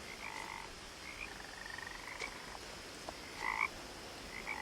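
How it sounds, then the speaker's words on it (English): Frog croaks from the video game What Remains of Edith Finch, several short separate calls spread across a faint ambient background, fairly quiet and with no talking. "The frog sounds is the same like the chickens in the old Grafton chicken coop."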